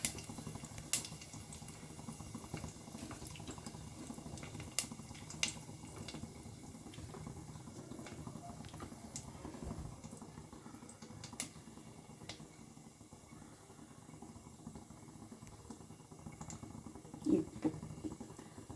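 Fennel seeds with cinnamon, cloves and bay leaf splutter in hot oil in a pan, giving steady soft crackling and popping with scattered sharper snaps and a low sizzling bed throughout.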